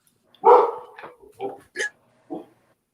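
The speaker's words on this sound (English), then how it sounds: "The dogs were trying to get a word in edgewise." Several dogs barking indoors, a loud opening bark followed by four shorter, sharper barks and yips spaced out over a few seconds, nearby and alone.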